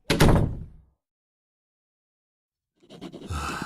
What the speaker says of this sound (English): do shut the door behind you